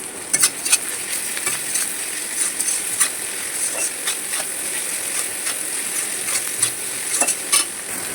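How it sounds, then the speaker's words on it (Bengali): Ginger, garlic and onion frying in a pan for a curry, giving a continuous sizzle with irregular scraping and clicking from stirring, fairly close and with no talking. "এটাকে ভালো করে ভেজে নেবো, যতক্ষণ না পুরো লাল লাল হবে ততক্ষণ ভাজতেই থাকবো।"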